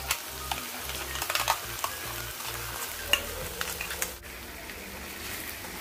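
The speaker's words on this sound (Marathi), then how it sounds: "ते व्यवस्थित असं मिक्स करून घ्यायचं आहे" A chilli, cashew and tomato paste is stirred into chicken curry masala frying in a pan: close, steady sizzling with repeated scraping stirs, briefly dipping quieter near the end.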